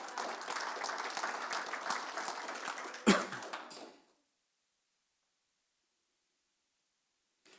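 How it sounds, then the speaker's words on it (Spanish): Church congregation applauding during a Sunday service: a dense wash of clapping for about four seconds, a sharp knock near the middle, then it stops abruptly and falls silent. "Dele un aplauso fuerte al Señor."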